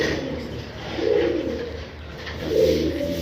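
A pigeon coos on a rooftop, two soft, throaty rolling phrases close by, each swelling and fading, with a faint steady background between them.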